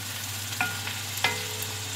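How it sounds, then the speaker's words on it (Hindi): Onions and green chilies fry with masala in hot oil in a wok, making a steady, close sizzling hiss. Two or three quick clicks of a stirring utensil cut through it. "अब इसमें प्याज डाल दूंगी, साथ ही इसमें हरी मिर्चें ऐड कर देंगे।"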